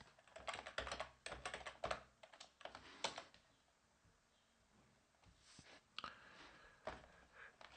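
Quick bursts of typing on a computer keyboard, close and fairly faint, with irregular runs of key clicks separated by short pauses and no talking.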